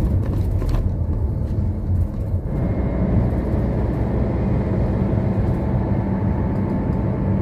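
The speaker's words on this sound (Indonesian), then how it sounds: "Kita akan coba test drive yang agak kenceng, tapi tetap kita jaga RPM-nya di stabil di sekitar" Chevrolet diesel car on a fairly fast test drive with engine held steady around 2,000-3,000 RPM, a loud continuous low engine drone and road rumble inside the cabin, with a rattling burst of noise at the start.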